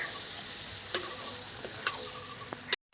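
Pui shak chachchari cooked with fish oil is stirred in a pan, giving a soft continuous sizzle broken by a few sharp spatula scrapes and clicks against the pan, close up and without speech.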